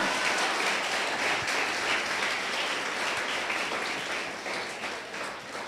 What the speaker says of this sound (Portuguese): Você vai aplaudir? Aplaude direito.